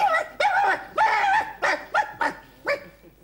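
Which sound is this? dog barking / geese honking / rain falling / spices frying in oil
dog barking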